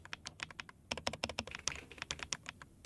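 Close, crisp typing on a new keyboard with magnetic switches: quick, uneven bursts of sharp clacky keystrokes with brief pauses between runs, and no speech.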